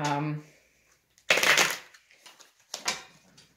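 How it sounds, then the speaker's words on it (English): A brief voice trails off, then a tarot deck is riffled in a quick burst, followed by a couple of softer shuffles and taps. "I'm just going to do a couple quick shuffles"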